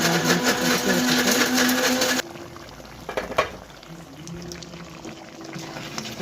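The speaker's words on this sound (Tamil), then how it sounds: "உப்பையும் போட்டு 5 நிமிஷம் கொதிக்க வச்சுட்டு" Crab (nandu) gravy simmering in a pot, a loud, dense bubbling hiss for about two seconds that then drops to softer intermittent bubbling and a few clinks.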